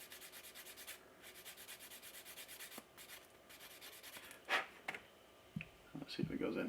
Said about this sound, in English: I'm just going to sand that top part down.